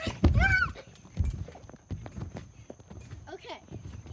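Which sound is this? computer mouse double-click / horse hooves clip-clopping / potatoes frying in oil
horse hooves clip-clopping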